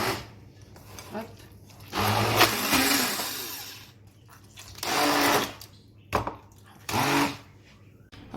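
A kitchen blender whirs loudly in short, close bursts while mixing cauliflower leaves, with quiet gaps between the pulses. A person talks briefly before the blending starts.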